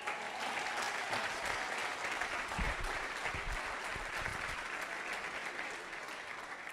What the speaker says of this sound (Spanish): Escucha este aplauso.